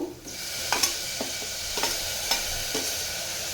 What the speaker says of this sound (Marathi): आणि टोमॅटो पण छान परतून घेणार आहे.